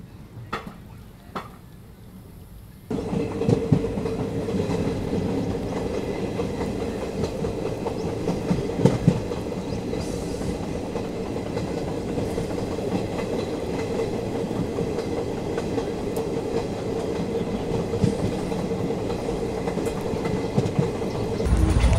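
A special Indian Railways train pulls out of Mailani Junction railway station during the monsoon, heard from on board. A loud steady rumble with clickety-clack of wheels on rail joints builds after a few quieter seconds and keeps rolling.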